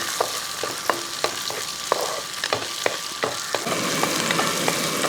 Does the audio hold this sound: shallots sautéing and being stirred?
yes